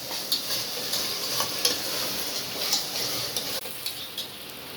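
Ingredients for mushroom biryani sauté in a pan, giving a continuous soft hiss with small clicks and scrapes from occasional stirring.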